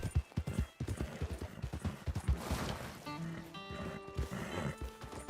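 A horse's hooves thud in a quick, uneven rhythm through snow in the Red Dead Redemption 2 game, close and loud, followed by a whinny and snorting as the gait slows.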